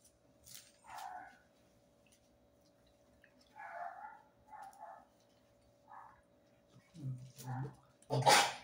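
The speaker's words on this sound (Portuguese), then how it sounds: "A voz do Valentino, do meu cachorro." A small dog barks and whimpers in short bursts at a family gathering in a house, with people talking around it.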